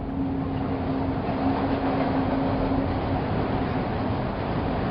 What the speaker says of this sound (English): we need to stop the train